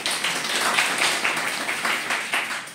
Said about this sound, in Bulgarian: Аплодисменти за Габриела Бричева и Аспарух Ганчев.